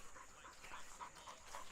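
Dogs resting outdoors in nature pant quietly in a quick, rhythmic series of soft breaths, faint and close, with no other sounds standing out.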